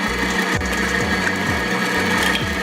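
An electric mixer beating sponge cake batter for a Victoria sponge, a loud, steady motor whir with a regular rhythmic thump from the beaters, heard close with no talking.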